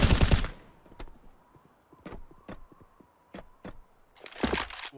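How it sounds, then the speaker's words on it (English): Gunshots in CS:GO come as sharp, separate cracks spread at uneven intervals, with louder bursts of fire at the start and end. "as shots come out"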